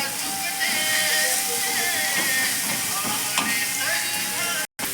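Chichurda vegetable being sautéed in a pan for a village-style home dish sizzles steadily with continuous hissing and occasional stirring scrapes, close and fairly loud.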